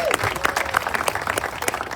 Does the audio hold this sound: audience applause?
yes